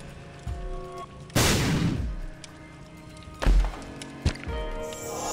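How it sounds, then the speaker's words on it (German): Bomb blasts in The Binding of Isaac Rebirth: a loud burst with a noisy decaying tail, then a second sharp thump and a smaller hit a moment later, over game music. "Noch eine Bombe."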